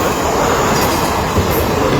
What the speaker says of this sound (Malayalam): but this time the train is moving in the opposite direction